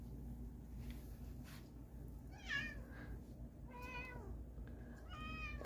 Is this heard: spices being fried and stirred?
no